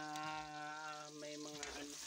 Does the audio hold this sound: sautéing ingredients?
yes